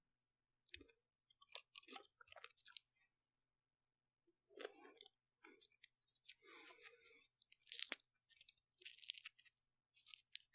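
Easter chocolates being unwrapped up close, foil and wrapper crinkling in quiet, intermittent bursts with short pauses, crisp and intimate against near silence.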